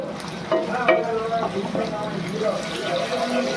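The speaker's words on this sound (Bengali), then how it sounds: "ভালো করে এবার এটা নাড়িয়ে নরম করবো পেঁয়াজটাকে।" Onion softening with a pinch of salt sizzles in a pan while being stirred, giving scraping and bubbling sounds under a voice talking nearby.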